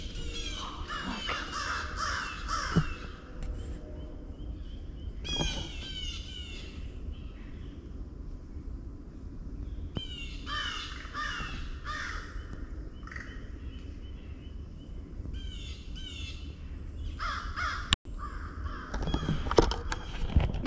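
Crows cawing noisily outdoors on a rainy hike, harsh calls in repeated bursts from several birds, some near and some farther off, over a steady background hiss of rain.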